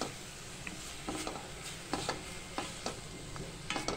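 Malvani masala sautéing in a pan for bangda fish curry, a steady close sizzle with a scattering of sharp scrapes and stirring taps from a spoon against the pan, no talking.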